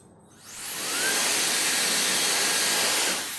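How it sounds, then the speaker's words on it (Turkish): A small high-speed mini jet fan air blower spins up quickly into a loud, steady rushing whoosh of air, holding at full power before easing off at the end. "Gerçekten jet motoru sesi çıkıyor arkadaşlar"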